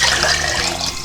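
Water gushes steadily into a cooking pot over a whole onion, garlic and meat, a loud, continuous close pour with no break.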